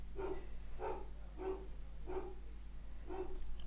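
A dog barks at the postman from inside a house, giving six evenly spaced barks that sound moderately near and muffled over a low steady hum.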